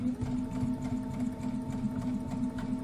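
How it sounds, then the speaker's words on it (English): Embroidery sewing machine stitching a corner block bench pillow, a steady close hum with rapid even needle chatter running continuously without talk. "let's go back to sewing and hope that doesn't come back again"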